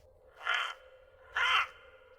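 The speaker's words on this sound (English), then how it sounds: "And that's when you hear the crow call, Kiamar." Two harsh crow caws spaced about a second apart, loud and fairly close over a low steady background hum.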